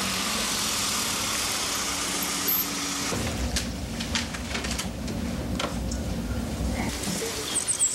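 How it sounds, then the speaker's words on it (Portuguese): A car rolls up and idles, its steady engine rumble and drone carrying at moderate distance, with light knocks and faint clatter layered over the running motor. "Gente, olha o carro do Daniel,"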